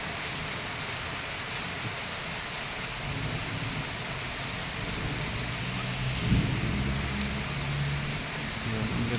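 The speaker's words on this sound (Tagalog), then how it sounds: "ang ganda ng ulan niya" Heavy, steady rain pours down as a dense continuous roar on surfaces, close and loud throughout, with a faint low rumble partway through and no talking.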